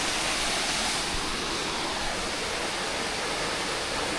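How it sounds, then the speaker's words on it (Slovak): Roháčsky waterfall in the Tatra mountains pours in a dense, loud, unbroken roar of rushing water heard up close, steady throughout with no voices. "My ideme na Rohatský vodopád"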